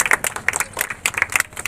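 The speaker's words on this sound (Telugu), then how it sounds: "క్లాప్స్ చప్పట్లు కొట్టండమ్మా." Audience clapping at a rangoli (muggulu) competition prize-giving, a loose patter of hand claps with uneven bursts and dips, moderately close and lively.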